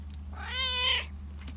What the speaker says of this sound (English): She gets meowish.